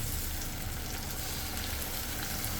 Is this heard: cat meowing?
no